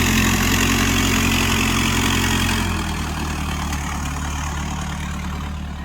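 A vintage vehicle's engine idles at an outdoor rally at Craigtoun Country Park in Scotland, a close, loud, steady chugging rumble that settles slightly lower and quieter partway through.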